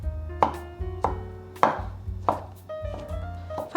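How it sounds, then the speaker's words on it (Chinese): A knife chops fresh shiitake mushroom on a cutting board in about six crisp, evenly spaced strikes, close and clear with no talk. "把鲜香菇的角切下来，切片，接着来切碎"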